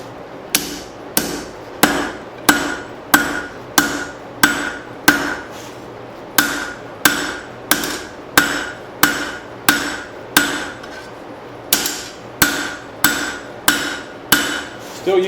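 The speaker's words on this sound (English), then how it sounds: "still using the giant hammer." A blacksmith swings a giant hammer while forging a chopper blade, landing loud, close metallic blows at a steady rhythm, roughly one per second, with a few brief pauses between runs of strikes.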